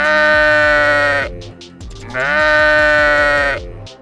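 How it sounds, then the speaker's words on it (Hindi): Two long, loud sheep bleats in a row, each a wavering nasal cry with a short pause between them, close and clear with no talking over them. "भेड़ की आवाज़ सुनकर"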